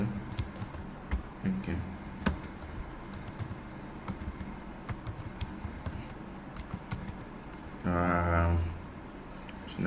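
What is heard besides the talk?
typing on a computer keyboard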